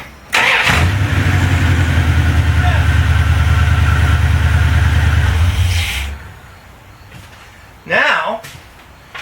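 A Mopar engine fitted with a Standard Motor Products ignition module cranks and fires up loud and close, runs at a rough idle for several seconds, then is shut off, followed by a brief burst of noise near the end.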